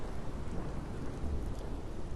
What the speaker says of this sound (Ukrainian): Вона чула, як на дворі заспокоюється буря.